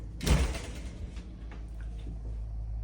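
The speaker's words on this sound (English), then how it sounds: "I'm going to open the shower door." An RV shower door swings open near the start with a firm thud and rattle, fading into a low steady hum of the coach interior.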